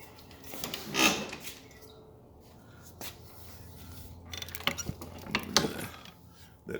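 A riding mower's deck height adjuster ratchets up one notch, giving a few brief mechanical clicks and clunks close by, with quiet rustling between them and no talking.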